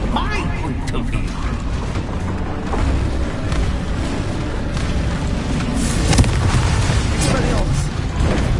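Blasting-spell explosions in the Hogwarts Legacy video game, heavy booms and bursts layered into dense, loud combat noise that never lets up, with shouted voices mixed in.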